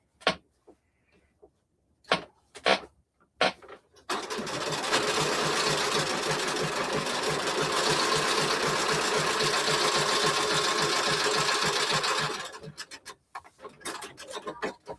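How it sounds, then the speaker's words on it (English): A sewing machine top stitches denim and French terry on a fleece vest, running steadily for about eight seconds after a few scattered clicks and handling knocks, then stopping abruptly. "Let me top stitch this other side"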